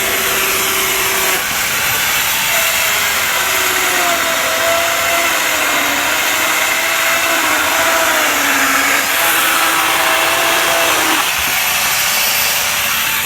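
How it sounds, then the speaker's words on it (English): A Bosch angle grinder fitted with a mini chainsaw attachment cuts through small wood, a loud steady high-pitched motor whine with a chain rasp that dips and rises as it bites, running continuously for the whole stretch. "That's a Bosh angle grinder with a"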